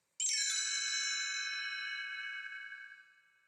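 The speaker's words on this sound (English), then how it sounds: "you'll know it's time to turn the page whenever you hear the chimes ring" A single clear chime rings out once with a bright, bell-like tone, then slowly fades away over a few seconds in an otherwise quiet background.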